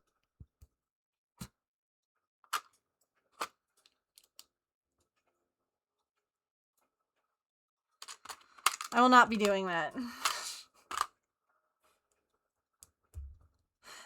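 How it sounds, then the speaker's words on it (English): Lego bricks clicked together, a few sparse, sharp plastic clicks spaced out in a quiet room, with a brief spoken phrase midway and a couple of faint clicks after. "when I'm clicking my Legos together"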